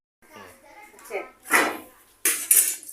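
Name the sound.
scrubbing dishes and pots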